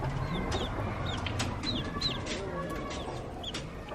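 Backyard chickens eat greens while soft clucks and chirpy peeps repeat at close range over steady low background noise. There is no clear talking.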